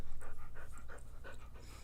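A dog pants close by in quick, rhythmic bursts of breath, about ten to twelve puffs in under two seconds, steady and moderately loud over a low background hum.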